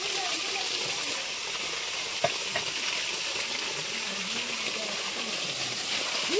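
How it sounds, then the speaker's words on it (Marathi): Water runs steadily near a temple hillside site, a constant broad rushing wash that stays even throughout with a faint click or two and no clear talk. "हे तिकडे पाणी चालू आहे बघा"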